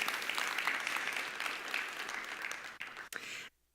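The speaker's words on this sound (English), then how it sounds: "get ready for more applause" Audience applause at a conference talk on an autism telehealth program, a steady dense wash of clapping that thins out near the end and stops abruptly.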